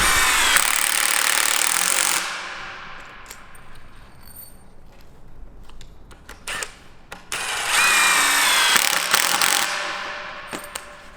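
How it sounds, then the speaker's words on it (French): A power screwdriver drives screws into a chalet wall panel pressed flush against its seal, two loud whirring bursts at the start and near the end with quieter clicks and handling noises between. "On le positionne à ras et on vient visser."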